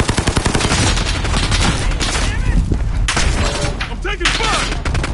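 Dense, loud automatic gunfire from Call of Duty Modern Warfare, rapid bursts layered over explosions with a voice talking over the action.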